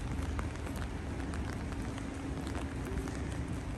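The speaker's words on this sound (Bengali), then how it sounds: "সেই বৃষ্টি আর আজকে সারাদিনও শেষ হলো না এমনই পড়তেছে" Steady rain falls on a cold, cloudy day, a dense, even hiss of drops striking surfaces nearby, continuous and unbroken with no voices over it.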